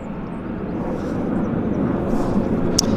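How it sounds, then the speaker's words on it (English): A WestJet airliner pushing back at Vancouver airport gives a steady low engine rumble and roar, constant and moderately close, with no talk. "Got a WestJet pushing back right in front of us, heading to Las Vegas."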